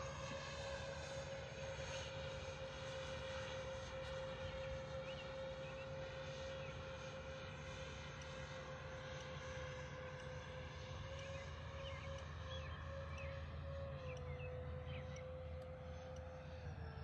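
A MiG-25 jet on its landing approach, heard as a steady, loud roar with a sustained whine that holds on and on without letup, with no voices over it.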